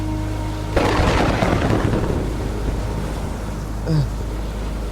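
A thunderstorm at sea breaks with a sudden loud thunder crack that rolls and fades over a steady bed of wind and rain, a brief tonal sound rising near the end.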